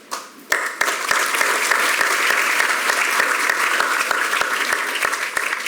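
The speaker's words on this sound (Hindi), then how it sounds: "जैकी श्रॉफ का नाम लेते ही आपने तालियां बजाई।" An audience at a Yoga Day celebration bursts into sustained applause after a quiet opening moment, loud and continuous with sharp individual claps standing out, easing slightly near the end.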